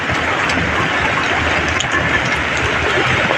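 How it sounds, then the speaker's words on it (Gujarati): Heavy monsoon rain pours in Bhavnath near Girnar, a loud, dense, unbroken hiss of water falling with no voices. "જો હજી વરસાદ ચાલુ જ છે ને હજી ધીમો પડવાનો નથી વરસાદ"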